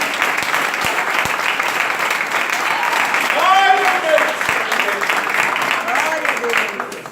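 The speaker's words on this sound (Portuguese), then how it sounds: "Dê mais uma salva de palmas" A church congregation claps steadily through a sermon, dense applause with a voice exclaiming briefly over it and faint cheering tones midway.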